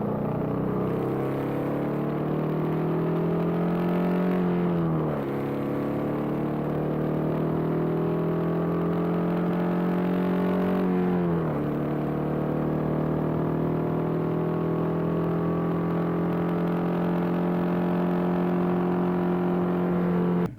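A classic motorcycle engine pulls hard from low revs on strong torque, its droning note climbing steadily through three long rising runs that each end with a drop as it shifts, loud and continuous throughout.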